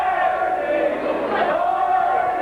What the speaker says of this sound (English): And the crowd's chanting, Barney.